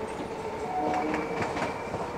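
A local EMU train runs on the tracks between Sealdah and Barasat, with a steady close rumble and soft rhythmic clicks of the wheels over rail joints, heard alone.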